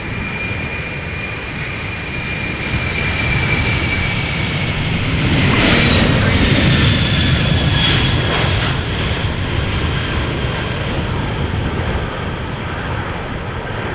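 A Silk Way West Airlines cargo jet departs Amsterdam Schiphol bound for Oslo, its engines a broad, loud roar that builds to a peak mid-pass with a whining tone on top, then slowly fades but keeps rumbling.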